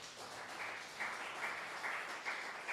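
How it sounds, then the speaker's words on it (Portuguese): A church congregation claps together in a rhythmic, pulsing pattern, a steady beat of many hands heard at a moderate, slightly distant level. "Aplauda al Señor muy fuerte."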